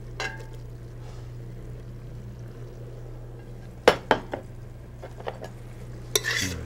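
Porcini and chanterelle mushrooms stirred in a pan for risotto, with a steady low hum, soft background sizzle and a few sharp utensil scrapes and clinks near the end.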